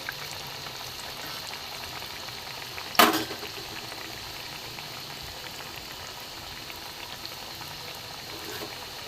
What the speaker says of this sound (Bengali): ভাজতে হবে লাল করে